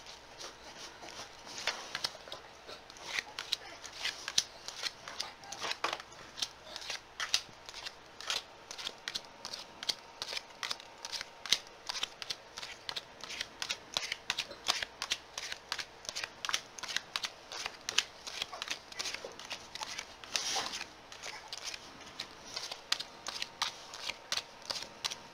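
Tarot cards shuffled by hand, a long run of quick papery riffles and snaps repeating in a steady rhythm, close and fairly quiet with no talk.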